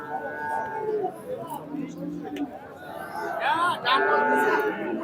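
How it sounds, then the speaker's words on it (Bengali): A black cow moos a few times nearby amid a busy outdoor cattle market in Bangladesh, with people chattering in the background. "এখানে একটি দেখতে পাচ্ছি কালো রঙের গরু।"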